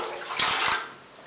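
A short burst of water sloshing and splashing in a tub, close and moderately loud, fading quickly.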